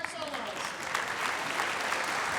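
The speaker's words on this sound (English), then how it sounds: "please stand up and let us applaud you for playing great" Audience applause for concert band soloists, a steady dense clapping wash that stays fairly even throughout the short stretch.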